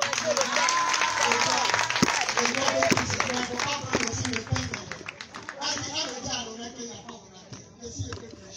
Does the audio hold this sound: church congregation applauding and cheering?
yes